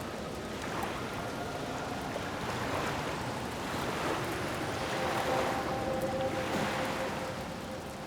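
A boat moves over open water, with a steady wash of waves and wind and a faint engine hum running throughout, fairly loud and without voices.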